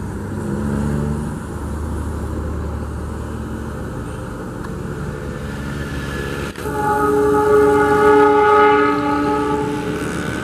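The Lodaya passenger train rolls past near the Cibatu–Warung Bandrek section in Indonesia with a heavy rumble, then blasts a loud, sustained multi-tone horn close by.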